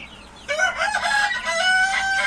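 A rooster crows loudly and close by in a farmyard with chickens and hatching chicks, one drawn-out call that carries to the end.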